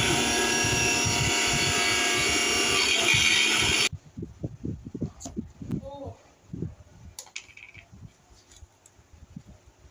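A mixer grinder grinds cumin and mustard seeds for a mango pickle masala, a loud, steady, dense whir that runs for about four seconds and cuts off abruptly, followed by a person talking.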